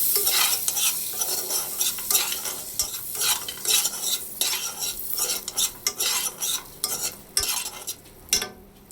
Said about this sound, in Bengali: এবার দিয়ে দেবো আমন্ড আর কাজু, এটা হালকা করে একটু ভেজে নেব